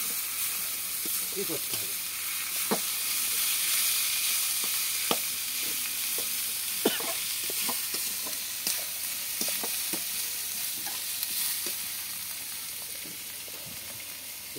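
Onion crackles and hisses as it fries in a pan and is stirred, a soft, continuous sizzle with scattered scraping taps, and a voice speaks briefly over it.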